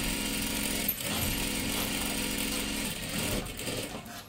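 Sewing machine running steadily as it stitches a sleeve band onto a dress, a continuous near, loud mechanical whir with brief pauses and changes in speed, no voices.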